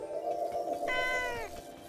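Cartoon cat meowing in an animated Marvel superhero episode, one drawn-out, rising and falling meow over a soft background hum, with no voices.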